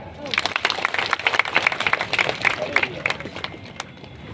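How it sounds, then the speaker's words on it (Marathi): An audience at a Dahanu cultural competition and job fair for tribal youth claps in a dense patter of hand claps, with someone talking over it throughout. "सर्वांसाठी सर्वांनी टाळ्या वाजवा"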